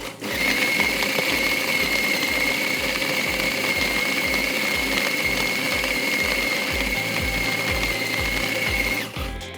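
A food processor minces chicken for a terrine, its motor whirring steadily and loudly with a rhythmic mechanical chop for about nine seconds before cutting off, with no voices.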